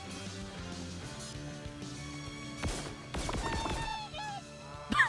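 A goose honks in the video game Funko Fusion, a few short nasal calls over busy game music and clattering effects, with no talk.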